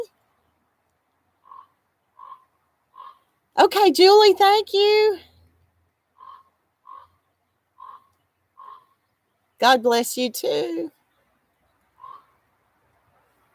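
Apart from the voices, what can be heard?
crow or raven calling, croaking like a frog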